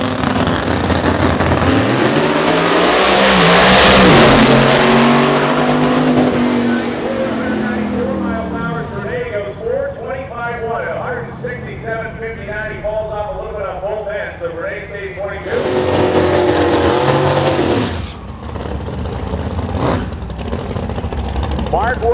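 Drag race cars at the starting line, one a small motor with a big turbo on top and the other a giant nitrous engine, rev loudly and roar close by before a sharp renewed blast, with an announcer talking over them.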